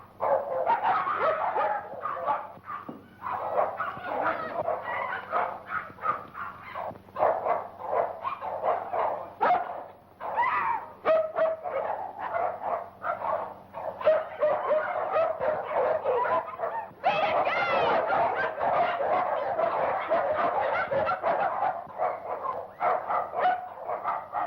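Several caged dogs bark, yip and whimper almost continuously at moderate distance, with rhythmic yelps and a louder burst of barking near the end, set against a soft low hum.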